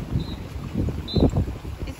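Gusty wind buffets the microphone in uneven bursts at Rocky Point, a low rumbling roar that rises and falls.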